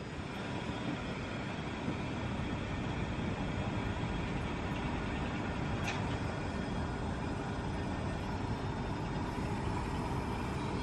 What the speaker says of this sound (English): That's the sound of extractor fans.